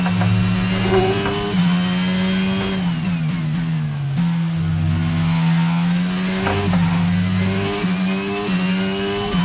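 Formula 1 car engine at full throttle in the F1 22 video game at the Austin Grand Prix, a loud high-pitched whine rising through gears with sharp shifts and brief lifts, sustained and close.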